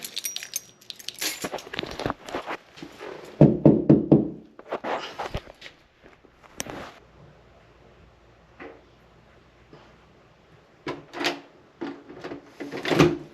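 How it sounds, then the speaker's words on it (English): Knocking on a door, repeated clusters of sharp raps of varying loudness, some close and heavy, with rattling handling noises between them. "I wasn't sure if I was knocking enough or knocking hard enough."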